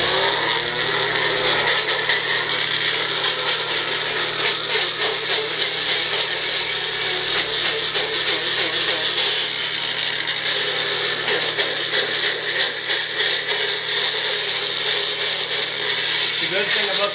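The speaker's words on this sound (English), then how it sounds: "We've got the Magic Bullet blender here, so let's do this." A Magic Bullet blender motor runs steadily throughout, a dense mechanical whir with rattling, grinding texture and a constant low hum, loud and close.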